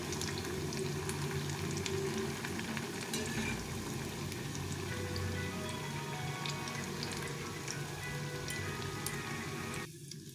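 Chhana and capsicum tikki fry in oil on a low flame, a soft continuous sizzle with scattered crackling ticks, fairly faint and close, with no voices.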